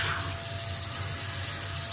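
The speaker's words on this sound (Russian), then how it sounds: "Здесь мы воду включаем." Tap water runs steadily into a sink for hand washing, a close continuous gushing splash with no voices over it.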